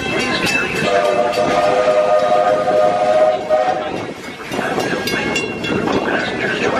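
Walt Disney World Railroad steam train pulls into Frontierland Station, a loud sustained whistle tone sounding over rumbling, clanking cars, then easing as the train rolls to a stop.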